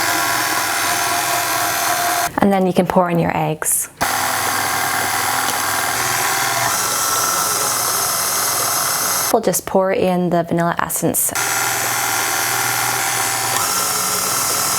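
An electric hand mixer whirs steadily through cake batter as milk, butter and eggs are beaten in, a continuous broadband drone interrupted twice by a voice speaking over it.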